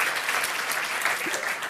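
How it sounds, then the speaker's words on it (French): A conference audience claps for a Java programming demo, a brief burst of dense, even applause that fills the room and tapers slightly at the end. "On applaudit bien fort"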